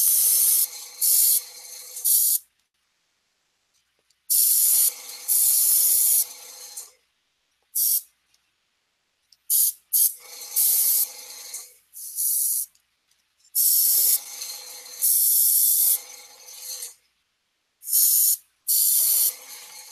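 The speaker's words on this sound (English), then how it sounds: "Dry brushing with the airbrush." Short bursts from an airbrush hiss close by while paint is dry brushed onto Batman accessory pieces, the sprays starting and stopping in an irregular rhythm with silent gaps between them and no talking.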